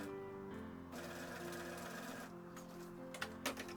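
A sewing machine stitches darts in a 1950s-style summer dress, running steadily at close range with a continuous mechanical whir that briefly slows and pauses.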